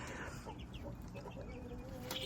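Meat chickens on a homestead clucking, several soft calls scattered over a faint outdoor background, moderately near with no talk.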